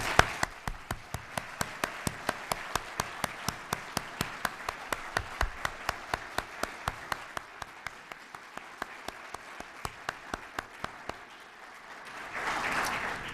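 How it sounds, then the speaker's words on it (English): Audience applause for city employees at the Gaithersburg State of the City 2013 event: a close, evenly paced run of sharp claps over softer crowd clapping, swelling briefly near the end. "let's please give them a great round of applause"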